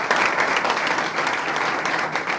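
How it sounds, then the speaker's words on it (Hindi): Loud applause from a seminar audience praising God, dense continuous clapping filling the whole stretch without letup. "यहोवा खुदा के लिए जोरदार तालियां"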